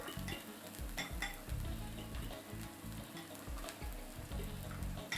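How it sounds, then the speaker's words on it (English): Food sizzles steadily in a frying pan while making chicken-egg muffins, with occasional stirring clinks and scrapes, close and fairly quiet, with nobody speaking. "That sizzling sound sounds good."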